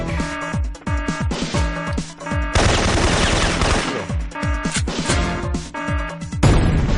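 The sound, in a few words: grenade explosions and gunfire in a video game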